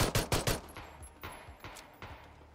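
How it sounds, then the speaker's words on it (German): Rapid bursts of automatic gunfire from a CSGO-style shooter game, three quick loud shots up front followed by sparser, fainter cracks spaced out over a couple of seconds, with no talking. "Man hört es schon schießen."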